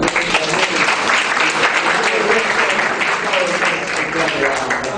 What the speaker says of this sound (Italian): Un applauso pure a Milano.